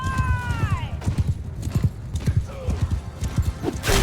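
Rhythmic clip-clop of horse hooves galloping in the video game Mount & Blade II: Bannerlord, over a steady game background, with a brief whinny and a few short synthetic tones.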